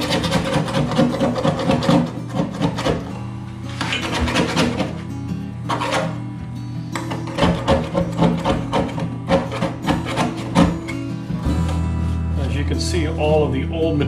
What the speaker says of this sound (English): I think I'm going to get a putty knife and try to scrape some of this off.